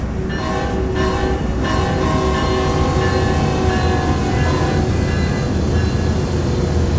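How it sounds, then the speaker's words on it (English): A loud, sustained horn with steady tonal bands blares over constant engine and rail rumble, a freight locomotive horn on Cajon Pass in the Train Sim World 3 video game. "that's a car honking at me because it thinks I'm a train"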